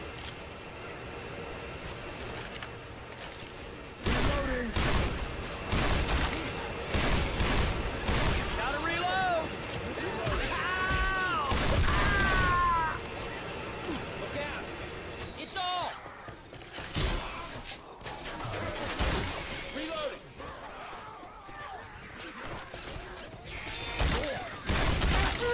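Video game gunfire in bursts of loud shots and rapid volleys spread across the scene, mixed with effects and voices talking and shouting over it.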